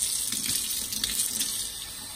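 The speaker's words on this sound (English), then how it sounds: "I might have to add a little cool water to it" Cool tap water runs steadily from a faucet into a kitchen sink, a continuous close splashing hiss lasting a couple of seconds with no voices.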